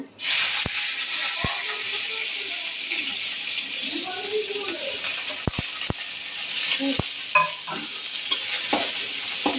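Chopped onion stems frying in a pan for cabbage Manchurian give a steady close sizzle, with sharp clicks of a utensil against the pan scattered throughout and a few faint background sounds.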